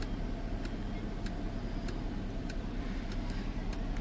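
Highway traffic heard along a road trip: a steady broadband roar of passing vehicles with faint, regular ticking clicks over it.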